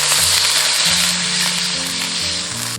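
Spring onion, ginger, garlic and dried seafood stir-frying in hot oil in a wok as mushroom-soaking water goes in, a loud, close, continuous sizzle with a low hum beneath, cutting off abruptly at the end.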